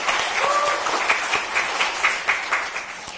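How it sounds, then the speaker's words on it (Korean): Audience applause at a Korean policy forum marking a government anniversary: a dense, even wash of many people clapping in a hall, moderately loud, with a few sharper individual claps standing out near the end. "다 같이 제가 축하의 박수 한번 부탁드려도 될까요?"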